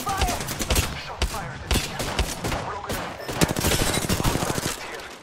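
Dense, continuous automatic weapon fire from a video game rattles close and loud, with overlapping rapid shots that grow into a fast stutter toward the end.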